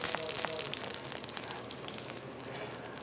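Canola oil sizzles in a frying pan with bits of salt and pepper, a dense, steady hiss with fine crackles that fades slightly over a few seconds.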